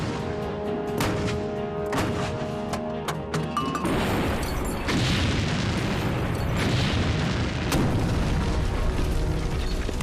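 Artillery shells bursting on a target amid continuous battlefield rumble, with repeated heavy booms and crashes, loud and dense throughout.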